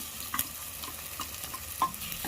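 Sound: frying ground masala with onions and tomatoes in pan

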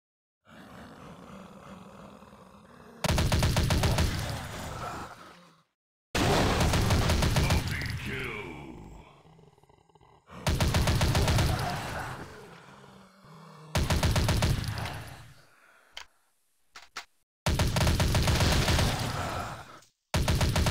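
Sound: gunfire shooting zombies in Dead Target video game

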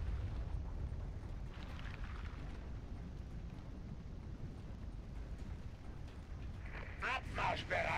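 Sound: lava eruption in video game StarCraft 2

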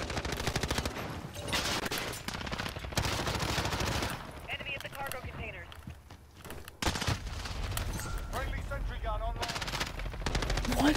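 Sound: gunfire in Modern Warfare video game

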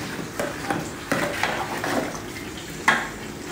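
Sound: stirring frying biryani masala, tomato, onion and ginger in a pot

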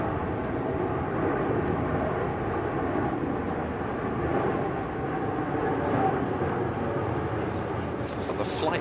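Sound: airplane flying overhead during a tennis match

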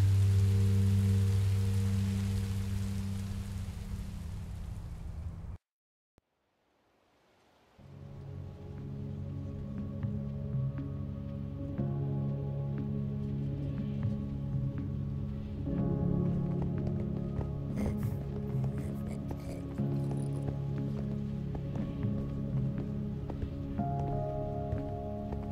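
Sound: rain falling in Minecraft: Story Mode (video game)

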